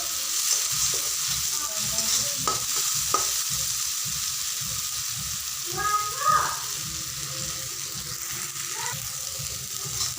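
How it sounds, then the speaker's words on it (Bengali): Pui (Malabar spinach) fruit frying in oil in a pan, a steady soft sizzle with occasional stirring scrapes and clinks, close and moderately quiet throughout. "দেখো ভাজা হচ্ছে, কত সুন্দর ভাজা হয়ে গেছে।"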